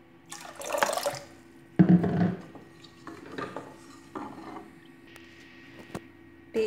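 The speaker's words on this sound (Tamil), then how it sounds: "தண்ணி நிறைய விடலாம்." Water poured into a cooking pot holding boiled lentils in a home kitchen, heard as intermittent splashing and clattering pot sounds in short bursts, fairly close and with no talking.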